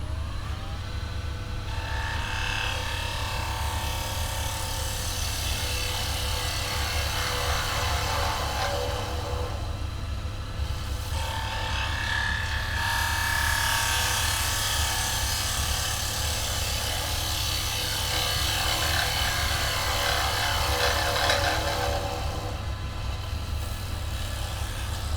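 A woodturning gouge cuts into the bottom of a wooden bowl spinning on a lathe, a steady close whirring hiss with rougher scraping bursts over a constant motor hum.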